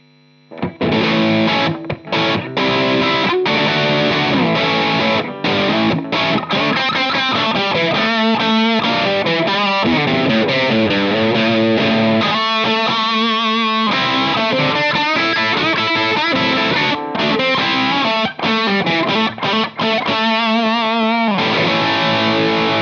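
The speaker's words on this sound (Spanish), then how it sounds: "Vamos a bajarle un poquito el drive y apretar el ampli." Electric guitar played through an overdrive pedal with the drive turned down and the amp pushed harder, loud chords and riffs ringing with crunchy, gritty sustain and clear note definition over a long continuous passage.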